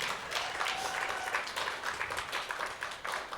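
A church congregation applauds at a Unity of Wichita service, steady dense clapping from many hands, moderately distant and sustained throughout.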